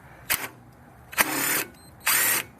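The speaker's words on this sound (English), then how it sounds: "There's a hex impact drill." Three short whirring bursts from a hex impact driver on a stripped bolt during a Hyundai Sonata CV axle replacement, the first brief and the last two longer and steady, close up with no talking.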